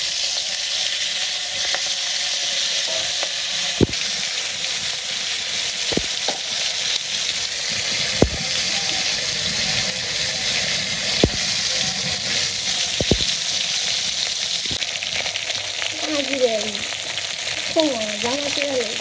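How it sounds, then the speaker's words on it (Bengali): Fish fries in hot oil, a loud, steady sizzling hiss with sharp sporadic spatter pops close by, and faint background voices toward the end. "তেল গরম হয়েছে, মাছ দিয়ে দেয়"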